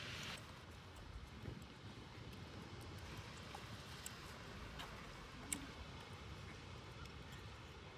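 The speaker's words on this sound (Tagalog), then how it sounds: "Sobrang hangin." Strong, steady wind buffets the microphone on a cold mountaintop in North Carolina, a continuous broadband roar with a few faint ticks and no voices.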